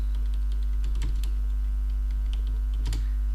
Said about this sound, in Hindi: यहाँ पे मैं डबल क्लिक करके अपने इंस्टीट्यूट का नाम लिखता हूँ।